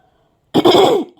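A single harsh cough or throat-clearing burst, close and loud, lasting about half a second after a moment of near silence.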